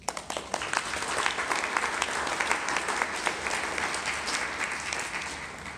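Conference audience applauding after a welcoming speech, a steady wash of many hands clapping with sharp individual claps near the start, moderately distant and sustained throughout.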